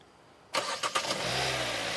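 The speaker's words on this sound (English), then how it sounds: "So go ahead and start it." A Hyundai Tucson engine with a sensor fault cranks briefly in a few close, loud bursts, then catches and settles into a steady low idle, with no talking.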